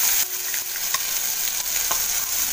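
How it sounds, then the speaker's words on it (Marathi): Mustard seeds and curry leaves hit hot oil in a pan for chutney, giving a bright steady sizzle with scattered crackles and pops, close and loud, no talking. "तेल गरम झालेलं आहे, त्यात मी टाकते राई आणि कढीपत्ता."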